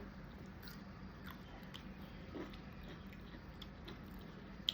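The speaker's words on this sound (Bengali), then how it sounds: "তো অল্প করে খেয়ে দেখি কেমন লাগে" Someone quietly chews and bites boiled bitter gourd, beans and pumpkin cooked with only salt: soft, close, squishy mouth sounds in a near-silent room, with no talking.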